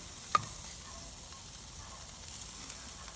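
Corn basted with saffron butter sizzles quietly on a Ñuke grill, a soft steady hiss with a single small tap early on, no one speaking.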